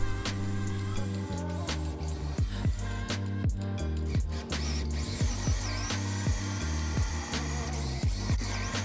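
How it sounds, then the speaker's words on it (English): Repeated bursts of a power drill with a 3/8 inch bit boring dowel holes into wood, with whirring pulses starting and stopping at an uneven pace, close up. "grab your 3/8 inch drill bit and drill a hole for each dowel"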